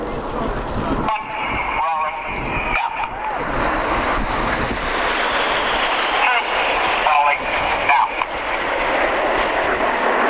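Red Arrows jet aircraft roar continuously overhead at an air display while flying an aileron roll, a broad rushing engine noise that swells slightly, heard under a commentator's voice.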